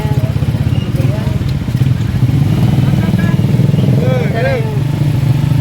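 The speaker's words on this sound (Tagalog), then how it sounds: "Mga motor baga. Dami papuntang bakyan." Several motorcycles ride along a village road toward a barangay fiesta in Camarines Norte, engines droning steadily and close by, with a person talking over the constant motor noise.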